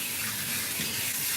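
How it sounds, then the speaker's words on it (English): Steady running water rinses pink Paw Pal degreaser from a short-haired cat's coat during a grooming bath, a continuous close splashing flow with no pauses. "Alright, let's rinse out the degreaser."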